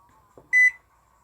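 An Electrolux MEF 41 microwave oven, just repaired after a board fault, switches on with a short click followed by a loud steady beep, then a low hum of the oven starting to run, with no talking.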